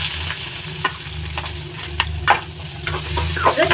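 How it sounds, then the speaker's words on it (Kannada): Chopped onions hit hot oil in a pan for a masala, giving a steady close sizzle with scraping stirs and clinks throughout. "ಇವಾಗ ನಾನು ಕಟ್ ಮಾಡಿರುವಂತ ಈರುಳ್ಳಿನ ಹಾಕೋತಾ ಇದ್ದೀನಿ"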